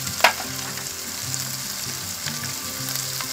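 Chicken for chilli chicken frying in a pan gives a loud, continuous sizzle and crackle with a brief sharp clatter near the start. No one speaks.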